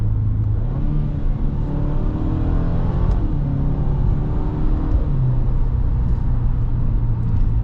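Inside a 2022 Subaru WRX GT with the performance transmission in manual mode, the engine drones and rises in pitch as the car accelerates through the gears, a loud steady cabin rumble with no talk.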